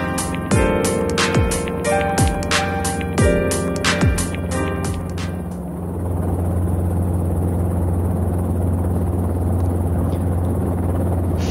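A Robinson R22 helicopter in flight gives a loud, close rotor chop of rapid regular blade slaps over engine whine; the thumping eases after a few seconds into a steady broadband engine and wind roar.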